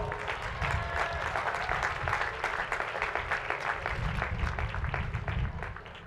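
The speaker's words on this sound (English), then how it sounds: "Please give him another round of applause." Steady, full applause from a crowd at a university commencement ceremony, even and dense from start to finish, with no speech over it.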